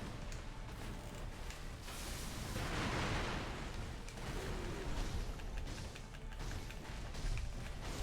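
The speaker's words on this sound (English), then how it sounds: "Oh, I forgot about the firecrackers." Firecrackers from the Sekiro prosthetic tool in the game, heard as a dense, steady crackling and popping burst. It fills the stretch continuously with a brief swell in the middle, set over busy game noise.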